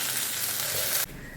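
Food frying in a hot pan at home, a bright continuous sizzle that drops abruptly quieter just after one second, with no voices.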